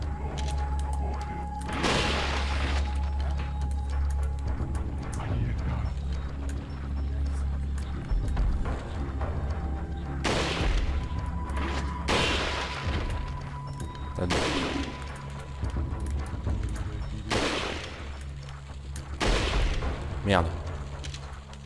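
Repeated sniper rifle shots crack out in Resident Evil 4, sharp bursts recurring every few seconds over a low rumbling game soundscape, with someone talking over the action.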